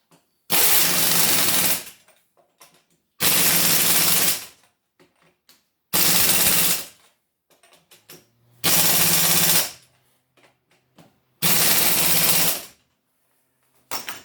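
An impact gun fitted with a torque stick extension runs down the wheel nuts on a Jeep TJ during a lift install, in five loud, evenly spaced bursts of about a second and a half each, with quiet gaps between.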